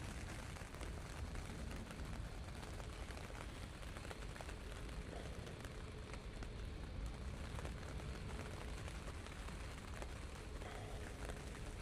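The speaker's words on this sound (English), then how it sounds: "it is absolutely starting to chuck it down" Heavy rain falls at Manchester Airport on a wet, windy day, a steady dense hiss that keeps up without a break across the whole stretch, with no voices over it.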